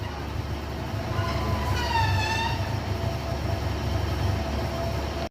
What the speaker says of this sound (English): Arriving on platform 3 is 150-1276 on the 11:19 Northern service from Doncaster to Sheffield.